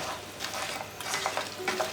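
Fried chicken pieces stirred into sauce in a pan for chicken lollipop, with soft sizzling under repeated scraping and clinking of a spoon against the pan, close and moderately loud.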